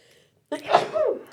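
A single sharp human sneeze bursts out close by after a moment of near silence, with a quick intake and a forceful, breathy release that tails off within a second.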